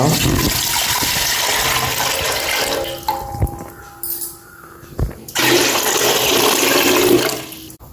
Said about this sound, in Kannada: ಈಗ ಒಂದು ಪಾತ್ರೆಗೆ ನೀರು ಹಾಕುವ